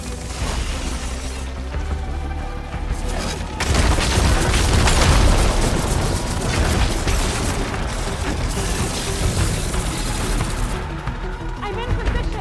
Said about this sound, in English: Hopefully they can also fire a few shots from that ballista